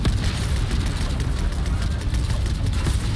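An explosion in the video game Fortnite during the Season 4 finale event, a dense, rumbling boom with sustained low roar and crackle that fills the whole stretch at high volume.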